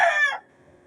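The tail end of a rooster's crow, loud and close, fading out after a fraction of a second.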